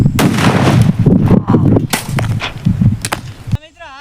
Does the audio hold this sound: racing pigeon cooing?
no